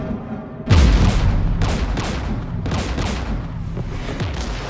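Gunfire in the sci-fi shooter game Mass Effect 3, near a jamming tower guarded by Geth anti-aircraft guns: a sudden heavy blast followed by repeated booming volleys and cracks, loud and close, with no talking.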